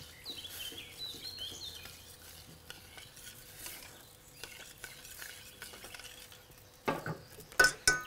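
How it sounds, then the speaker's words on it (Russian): Red currant chutney sauce with cinnamon and cloves is stirred in a pan, a quiet gentle sizzle under soft spoon scrapes, ending with a few louder clinks and knocks of utensils. "И теперь все тщательно перемешаю."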